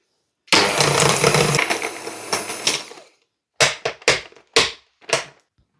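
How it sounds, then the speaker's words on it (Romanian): An electric mixer beating butter at low speed: a close, loud whirring run of about two and a half seconds, followed by several short separate bursts of beating with silences between them. "Și bat untul la viteză mică."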